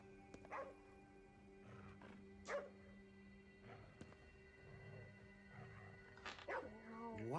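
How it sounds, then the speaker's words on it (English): A dog in the video game Ghostwire: Tokyo gives several short barks and yips spread across the scene, fairly faint under a steady game soundscape, while players talk over it. "What's he barking at?"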